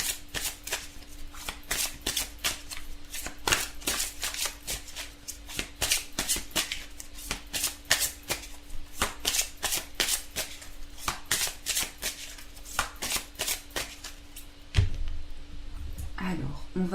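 Oracle cards being shuffled by hand, a long run of quick, crisp riffling bursts repeating at a brisk rhythm, close and clear, ending with a few heavier knocks as the deck settles.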